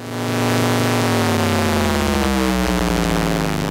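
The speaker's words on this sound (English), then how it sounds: "so I'm going to put the two oscillators through a ring modulator" A harsh, metallic drone from two synthesizer oscillators through a ring modulator, with clashing inharmonic tones, steady and loud throughout, sustained for several seconds without pause.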